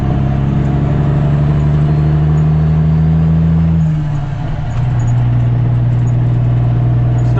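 A Kenworth W900B truck with a CAT C13 engine cruising, a loud steady low diesel drone heard from inside the cab, dipping in pitch briefly as it shifts before settling again.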